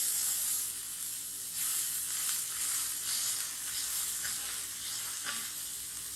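Smash burger patties frying on a cast iron pan, a steady close sizzle and crackle with spatula scraping and pressing sounds, no voices.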